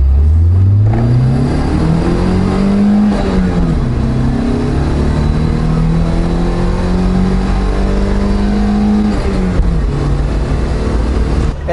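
Engine of a 1988 Opel Manta GSi, close and loud, climbing through the gears in smooth accelerating sweeps with brief dips at each shift, no voices over it.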